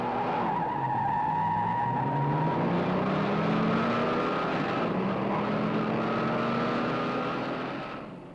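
A 1966 Chevrolet with a 396 cubic inch turbojet engine races a Ford with a 390 cubic inch Thunderbird engine, engines roaring loudly and steadily in a continuous drone, with rising tones as the cars accelerate, fading slightly at the end.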